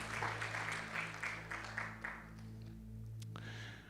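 A church congregation claps for a couple of seconds, moderately close, over a sustained organ or keyboard chord that keeps ringing after the applause trails off.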